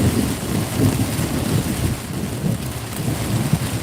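Heavy rain and a thunderstorm heard from inside a car driving through Miami traffic, a dense steady roar of rain with low rumbling thunder throughout, loud and close with no talking.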